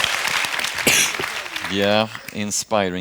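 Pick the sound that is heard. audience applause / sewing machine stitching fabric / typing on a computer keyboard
audience applause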